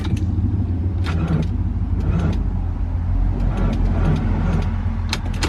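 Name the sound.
VR6 engine cranking with weak battery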